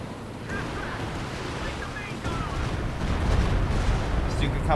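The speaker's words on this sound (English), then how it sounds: "artillery coming down" Artillery barrage in the video game Company of Heroes 2 on a winter battlefield: a steady, rumbling roar of distant explosions with wind-like noise and crackle, growing heavier toward the end, while a voice talks over it.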